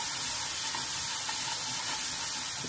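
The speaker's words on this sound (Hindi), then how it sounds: "इसको जल्दी जल्दी चलाना है जिससे हमारा मसाला गले नहीं" Spice paste stirred quickly in a hot frying pan while cooking stuffed dum aloo, giving a steady close sizzle and frying hiss throughout with faint scraping, no talk.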